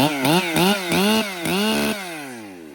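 A small Echo chainsaw engine revs up and down several times in quick bursts, loud and close, then winds down at the end.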